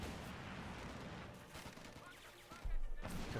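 Troops firing in the Company of Heroes 2 video game, a World War II battle between Wehrmacht and British forces: dense, distant rifle and machine-gun fire crackling without pause, with heavier thumps near the end, quiet overall.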